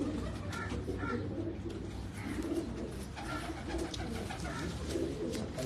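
Pigeons coo softly and repeatedly in low throaty phrases over a steady background hum, with occasional faint wing or shuffling sounds nearby.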